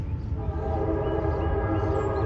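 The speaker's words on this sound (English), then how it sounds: "There's that train. And these trains are long." Long freight train carrying double-stacked cargo containers passing on an outdoor hiking trail in Pennsylvania, a sustained low rumbling drone with a horn-like tonal layer, steady and fairly loud throughout.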